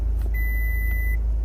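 A Fiat 124 Spider's parking sensor gives a short electronic beep tone, held for under a second, over a low steady idle hum after the car is shifted into reverse.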